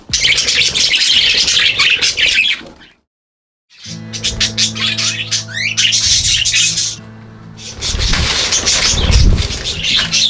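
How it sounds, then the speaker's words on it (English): Pet budgies in a large aviary chirp and chatter loudly and busily, with wing flaps among the calls and one brief silent gap partway through. "I might officially have too many budgies now, but can you ever really have too many?"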